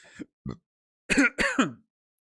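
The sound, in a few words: burp and cough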